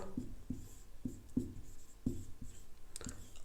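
Handwriting during a class 10 maths lesson, a series of soft, rhythmic taps and strokes of a pen on paper, close and quiet, with no voice.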